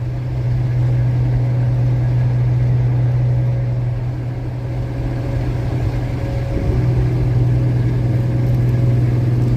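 The Caterpillar motor of a tank runs loud and steady, a deep rumbling drone with a slight shift in pitch partway through and no voices.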